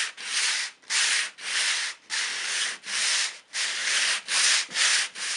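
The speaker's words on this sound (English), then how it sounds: "What's important to remember when you're sanding a desk is to go with the grain of the wood" Sandpaper worked back and forth with the grain across the surface of a painted wooden desk, about nine even rasping strokes in steady rhythm, close and alone.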